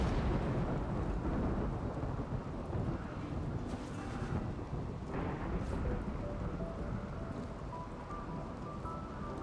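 Thunderstorm with steady rain in the colony-building game RimWorld, a continuous dense wash of rainfall with low rumbling thunder swelling underneath, loud and unbroken throughout with no talking.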